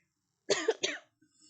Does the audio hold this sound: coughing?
yes